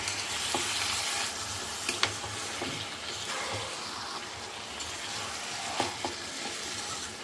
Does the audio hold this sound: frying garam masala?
yes